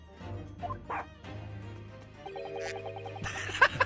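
Dog in The Great Ace Attorney 2 giving short yips and whimpers over a soft game background, a few quick close sounds, with a brief sharper burst at the end.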